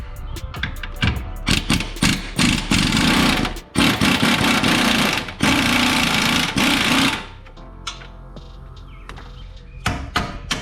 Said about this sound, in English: I'm gonna finagle it with this and the impact from the other side, and then we'll be able to pull this control arm down.